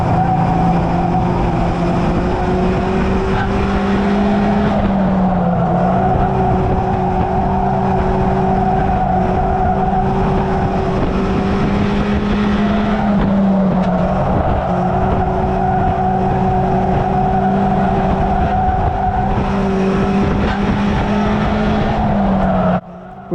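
Race cars circle the Cowdenbeath Racewall on a dry, sunny day, loud engines droning continuously with rising and falling pitch as they rev through laps, the snarl swelling and easing every few seconds.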